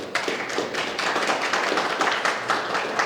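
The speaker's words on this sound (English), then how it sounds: "Please give them as well a round of applause." An audience at a community gathering in Ethiopia applauds steadily for about three seconds, a dense wash of many hands clapping at close range.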